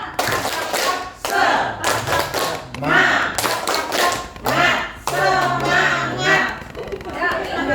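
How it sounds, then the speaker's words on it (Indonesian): At a school teacher-training session, a group performs a patterned spirit clap, with bursts of rhythmic hand claps and thumps separated by short pauses. Voices talk and chant along between and over the claps. "Ini tepuk semangat."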